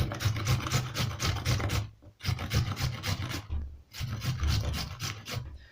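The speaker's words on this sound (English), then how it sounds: "I'll start by grating my carrots" Carrots are grated on a hand grater for carrot rice, a close, steady run of rhythmic rasping strokes in three bursts separated by brief pauses.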